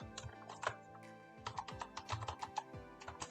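Code being entered on a computer keyboard: a quick, uneven run of crisp key clicks at close range, fairly quiet, with no talking.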